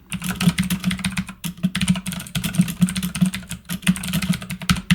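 Rapid typing on a computer keyboard, a steady run of close, crisp key clicks with brief pauses, over a low constant hum.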